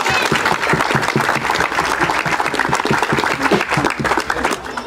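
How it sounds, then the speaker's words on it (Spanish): Loud, sustained applause from a crowd at a Spanish-language thanksgiving ceremony, dense steady clapping filling the whole stretch with a faint voice beneath. "Y también un aplauso al comité"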